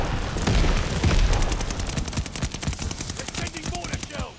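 Dense gunfire and explosions in the video game Call of Duty: Vanguard, with a loud booming burst early on followed by rapid, steady machine-gun bursts that continue to the end.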